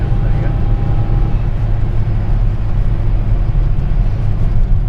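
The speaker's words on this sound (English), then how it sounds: "we're tootling along at 50 mile an hour, 3 people in car" An Austin Allegro 1100 cruises at 50 mph carrying three people, with a steady, loud cabin rumble of engine and road noise that stays constant throughout.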